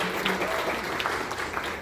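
An audience at a Democratic Party public lecture on the Daejeon–South Chungcheong integration applauds, with steady, moderately loud clapping filling the short moment.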